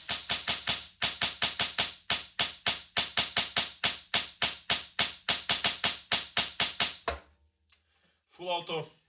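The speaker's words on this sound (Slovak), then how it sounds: "Takže teraz budeme strieľať semi." LCT RPD airsoft machine gun on HPA with an F2 engine at about 70 PSI, firing semi-auto: a quick, steady run of about thirty sharp, close, loud snapping shots over seven seconds, then a short pause and a brief burst of speech.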